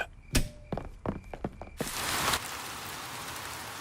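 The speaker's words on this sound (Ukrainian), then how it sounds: "It has been raining all night," Cartoon rain falling in a garden: a handful of separate drip and knock sounds at first, then a steady wash of rain hiss that continues to the end.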